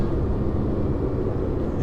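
A tuned 660 hp Porsche 911 Turbo S pulls hard in third gear on overboost, a dense, steady low engine roar heard from inside the car without a break.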